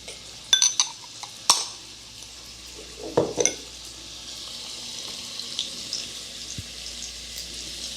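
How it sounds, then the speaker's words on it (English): Half a pound of andouille sausage browning in olive oil over medium-high heat, a steady soft sizzle under intermittent clinks and scrapes of utensils against the pan. "We're going to add our sausage and begin to brown it"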